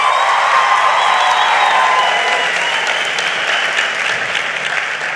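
Loud, dense audience applause at a design talk event, a continuous wash of many hands clapping at even strength for about five seconds, with no voices over it.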